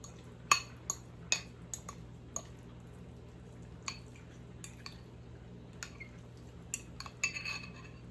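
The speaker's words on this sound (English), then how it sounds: "So I'm going to mix this up really good." A salmon croquette mixture with flour is mixed in a bowl, producing sparse, faint taps and clicks of a utensil against the bowl over a low, steady hum.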